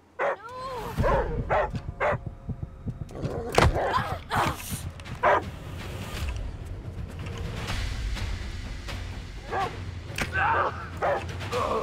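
A dog in a video game barks repeatedly in a rough, irregular series of sharp yips and woofs, loud and close, mixed with whimpers and some rustling game sounds.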